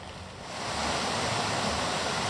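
Water rushes steadily along the Turret Burn, a Scottish hill stream in Glen Turret, as a dense, continuous broadband hiss that swells slightly after the first half second and stays close and even with no voices.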